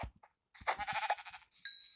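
A sheep bleats in the Minecraft video game, a short nasal game-sound cry after a couple of faint clicks, clear and close with nothing else around it.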